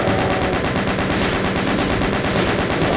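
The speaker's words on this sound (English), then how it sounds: "I'm using the chain gun rather than the super shotgun because I feel better able to afford it." Rapid, continuous chaingun fire from Doom's Sunlust map, a dense unbroken stream of shots held loud and close for the whole stretch with no pauses.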